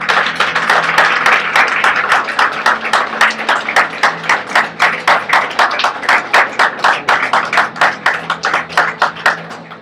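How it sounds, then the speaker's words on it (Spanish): A church congregation claps in rapid, loud rhythmic applause that rises at first and then settles into steady, evenly spaced hand claps, close and filling the room without any voices. "Dar un aplauso a Jesús."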